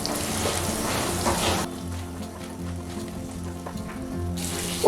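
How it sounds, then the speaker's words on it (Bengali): Pointed gourd with salt and turmeric frying in a pan, giving a soft steady sizzle with faint clinks as the pieces are turned over. "পটলগুলোকে এইভাবে উল্টে পাল্টে 2 মিনিটের মতন ভেজে নিচ্ছি"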